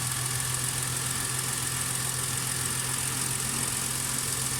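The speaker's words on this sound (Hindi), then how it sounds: "कंप्रेसर हमारा प्रॉपर ऑटोमेटिक चल रहा है" A 2018 Toyota Fortuner's AC compressor cycles on automatically while the engine idles, giving a steady, even mechanical drone with a low hum and constant broadband whir and no breaks.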